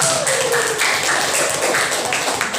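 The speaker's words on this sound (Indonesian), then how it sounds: "Tepuk tangan buat saya." Classroom of students clapping hands, a dense, loud, steady patter of many claps lasting the whole stretch, close and without pauses.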